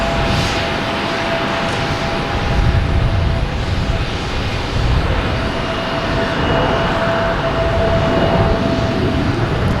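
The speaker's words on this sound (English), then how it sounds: "Here's Delta heading to Minneapolis." A Delta airliner at Boston Logan Airport, bound for Minneapolis, gives a loud, steady jet roar with a faint whine, sustained close by throughout with no voices.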